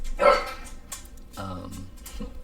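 A dog barks close by in two or three short, sharp bursts, with a faint voice behind it.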